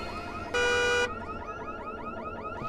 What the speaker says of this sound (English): Can we turn the alarm off at all? I don't want to be listening to that throughout the entire game.